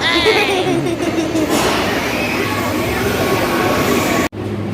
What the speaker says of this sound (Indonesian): Dikit lagi tuh kereta gantung. Kereta api maksudnya. kereta api.